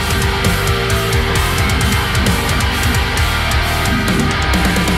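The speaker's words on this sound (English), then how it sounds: "Today I'll show you how I mix my guitars to sound like this." Tight, aggressive mixed distorted metal guitars play a dense, continuous palm-muted riff with chugging low-end rhythm, loud and steady throughout with no voices.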